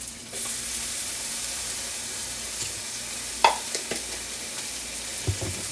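Garlic sizzles steadily in a hot pan for pasta with Italian beef sausage and peppers, with a constant frying hiss broken by a few sharp clinks and scrapes of a spoon stirring.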